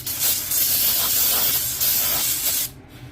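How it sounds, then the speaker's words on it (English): Brake parts cleaner sprays from an aerosol can onto brake parts of a 2012 Toyota Camry rear wheel, a loud close steady hiss in a few long bursts that cuts off abruptly. "Spray the brake parts cleaner."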